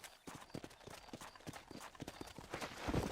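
Horse hooves clip-clop at a steady trotting rhythm in the Red Dead Redemption video game while riding across a ranch property, faint and even with a quiet background.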